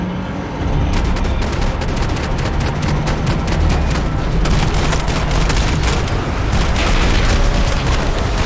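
Rapid, dense gunfire from a Max Payne 3 shootout rattles continuously, with sharp overlapping shots and booming impacts at close range, loud and relentless with no talking.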